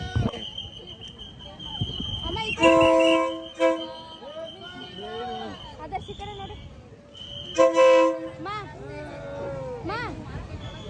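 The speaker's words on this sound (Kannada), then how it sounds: "ಟ್ರೈನ್ ಪಾಸ್ ಆಯಿತು" Two long, loud horn blasts from a train passing through the Maeklong Railway Market in Bangkok, amid a noisy crowd, with voices chattering and shouting around it throughout.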